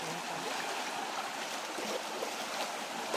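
A steady, full rush of a forest waterfall in strong flow roars continuously, broadband and unchanging, with no voices over it.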